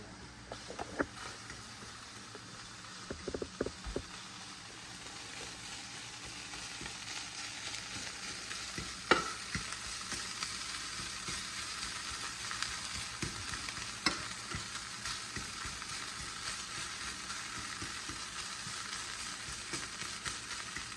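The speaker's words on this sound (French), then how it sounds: "Donc tu égrènes cette viande hachée pour qu'elle soit dispersée." Minced meat sizzles and crackles in a frying pan while being stirred and broken apart, with occasional scraping knocks from the utensil against the pan, a steady close frying hiss throughout.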